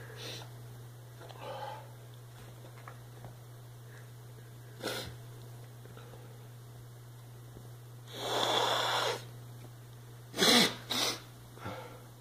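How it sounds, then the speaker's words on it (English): A person sneezes after snorting THC, with a couple of brief bursts and sniffs around the midpoint and two sharper, louder sneezes near the end over a steady low hum. "Fucking sneezing."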